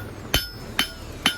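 A hammer forges a railroad spike into a thick knife blade, beveling it flat: three sharp ringing blows spaced evenly about half a second apart, close and loud, with no voices.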